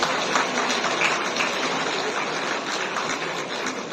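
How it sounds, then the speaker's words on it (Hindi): Audience at a felicitation ceremony at City Montessori School applauds steadily, a dense even patter of many hands that holds throughout without a break. "आप तालियां बजाकर उनका अभिनंदन करें"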